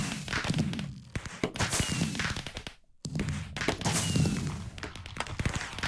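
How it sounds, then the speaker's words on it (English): Fireworks rockets with a crackle effect are fired repeatedly in Minecraft survival during a raid, giving a rapid series of sharp whooshing launches and popping, crackling bursts with a brief gap midway. "I just love the noise that the fireworks make, especially when you add the crackling onto it"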